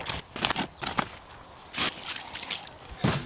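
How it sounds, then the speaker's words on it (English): Water poured into a worm vermicompost bin, sloshing and trickling as it drains through the bedding, in several close, uneven splashy bursts. "as you're putting the water in, it's gonna drain through and collect the leachate"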